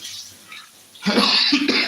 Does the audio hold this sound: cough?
yes